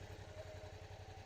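A Suzuki DL650 XT V-Strom motorcycle, 2017 model year, idles at close range with a steady, even low throb and regular pulsing beats. The sound is fairly quiet and carries no talk.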